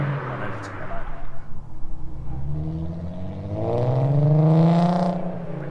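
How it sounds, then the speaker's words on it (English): A viewer's car exhaust rumbles and then revs up, the engine note climbing and swelling toward the end while someone talks over it. "I love the sound of the exhaust."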